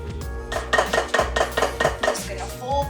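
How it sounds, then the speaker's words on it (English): A mixture folded in a container with a utensil, giving a series of rhythmic scraping knocks against the container, about eight regular strokes, close and clear with no talking. "Just gonna fold the whole container until totally incorporated."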